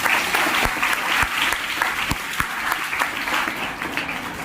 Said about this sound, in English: So give claps for all the students.